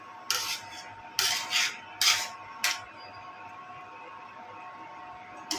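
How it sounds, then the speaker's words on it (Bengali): Several short scraping, rubbing bursts of a spoon stirring cooked khichuri in a pot, four quick strokes in a row followed by quiet, close and fairly soft, with no talking. "একটু নেড়ে চেড়ে দিই"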